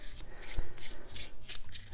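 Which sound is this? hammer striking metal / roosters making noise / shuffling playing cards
shuffling playing cards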